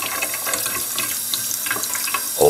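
A part from a Drinkwell Zen pet water fountain is rinsed under a running tap, giving a steady splashing water stream with soft spatters, fairly close and continuous, with a brief louder gush at the end.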